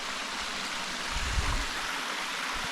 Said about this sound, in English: I don't know how well you can hear me through with the water splashing going on.